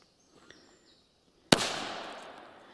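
A China Böller firecracker from the 1990s goes off once with a sudden, fairly dull bang that decays into a long noisy tail, following a quiet stretch with faint background chirps.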